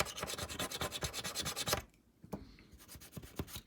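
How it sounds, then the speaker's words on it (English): Hand scraping of plastic burrs left around drilled holes on an AMT 1:537 USS Reliant model kit: rapid, close rasping strokes, a brief pause, then a few more scratchy scrapes, no talking. "On the other side, usually that needs a good old scrape because the plastic came in when we drilled through it."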